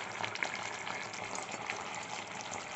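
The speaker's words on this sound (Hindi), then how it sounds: "इसमें हम डालेंगे थोड़ा सा पानी" Small amount of water poured into a spoonful of cornflour to make a paste, a faint steady trickling hiss heard alone with no talk.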